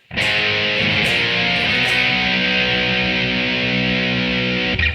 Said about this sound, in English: So we start off with a typical A bar chord